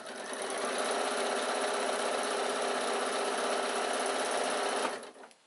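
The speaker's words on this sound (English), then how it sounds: "we're going to sew on exactly the same row of stitches that we did before, all the way down" A sewing machine runs steadily for about five seconds, stitching down through layers of a bag with a close, even, rapid whir before stopping abruptly.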